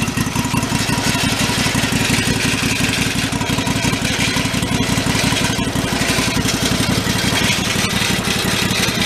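A free, busted garden tractor engine runs steadily at a rough, rapid idle, loud and close, with a continuous pulsing chug throughout and no talking.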